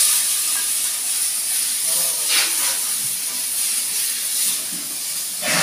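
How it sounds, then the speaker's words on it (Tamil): Onions and tomatoes sizzle in a pan for chutney, giving a steady, close frying hiss that runs without a break and swells a little now and then. "சட்னிக்கு வந்து வெங்காயம் தக்காளி வைக்க"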